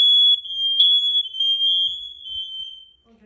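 A home smoke alarm gives a loud, steady high-pitched electronic tone during a button-press test. It holds for about three seconds and then cuts off, with no talk over it.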